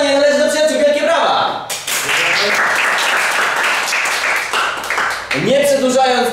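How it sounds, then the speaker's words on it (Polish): A studio audience on the Polish game show Familiada bursts into loud applause after a round is won, dense clapping that carries on for several seconds between a host's excited speaking at the start and end. "Wielkie brawa!"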